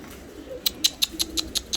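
Pigeons in a coop give a run of soft repeated coos, about seven evenly spaced calls close by, over a quiet background with no talk.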